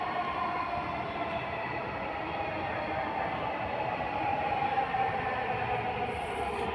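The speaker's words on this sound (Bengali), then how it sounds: "দুইটা ট্রেন দুই দিক থেকে।" Two metro trains pass from opposite directions on an elevated line, a steady, loud broadband rumble and rush that holds evenly throughout with no clear individual clatter.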